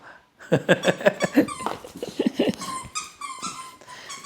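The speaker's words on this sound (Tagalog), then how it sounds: "Itong makulit na aso na to." A dog whimpers and squeaks in short, high, excited bursts up close, with panting breaths between them.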